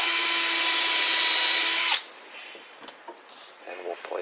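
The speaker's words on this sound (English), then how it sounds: "I'm going to drill that again." A power drill whines loudly and steadily at close range while drilling a screw hole in wood for side-mount drawer slides, then stops abruptly, leaving faint handling noises and light rustling.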